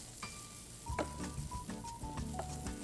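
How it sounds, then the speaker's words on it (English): Mushrooms sizzling in a pan while being stirred, a close steady crackling sizzle broken by several rhythmic scraping strokes of the spoon. "Now let me give these mushrooms a little bit of a stir."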